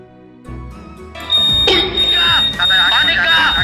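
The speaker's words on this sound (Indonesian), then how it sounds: "2 pelaku yang baru saja mencoba beraksi harus langsung kelabakan begitu alarm motor berbunyi nyaring tanpa henti." A motorcycle anti-theft alarm blares loud and continuous, with wavering, siren-like electronic tones over background noise and voices talking.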